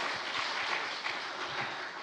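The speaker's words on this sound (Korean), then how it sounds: "우리 박수로 환영하시겠습니다." Church congregation at a Sunday worship service clapping to welcome first-time visitors, a soft, fairly distant patter of applause spread evenly through the sanctuary.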